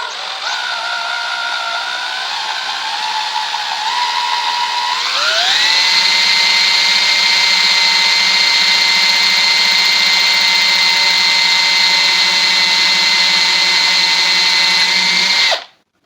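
A power drill bores straight through a wooden chair leg for a dowel, a loud, close whine that rises in pitch as it speeds up, holds steady, then stops abruptly.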